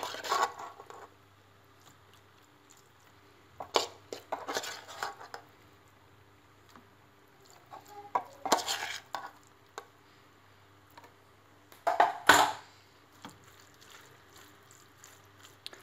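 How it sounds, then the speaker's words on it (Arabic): Pasta with vegetables, sauce and tuna is stirred in a pot, giving a few scattered scrapes and soft clinks of utensil against the pot, separated by quiet pauses, with one sharper clatter near the end. "انا هنا غنضيف في الاخير الطون دونك غادي نخلط الطون"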